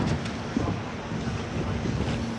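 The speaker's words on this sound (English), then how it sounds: "It's a bit windy today, a bit breezy." Steady wind gusting across a seafront with fishermen and boats nearby, a continuous loud rushing buffet against the microphone with faint water and surf underneath, no voices.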